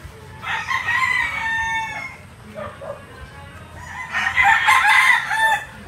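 A game-farm rooster in Taytay, Rizal crows loudly and close, two long drawn-out calls separated by a short gap with softer clucking between, over faint farmyard background.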